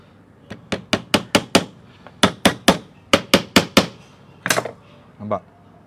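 Sharp hammer blows drive nails into wood for a handmade onion rack made without machines, landing in quick bursts of four or five close strikes separated by short pauses, loud and near, followed by a little talk.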